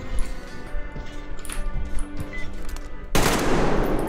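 Gunfire in the post-apocalyptic shooter Metro Exodus, played on hardcore at an oil terminal: rapid shots rattle under a droning game soundscape, then a loud, sustained burst of noisy fire or blast takes over near the end.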